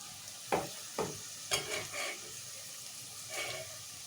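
Thinly sliced onions frying in oil until browned, a soft continuous sizzle marked by several scraping stirs in the pan.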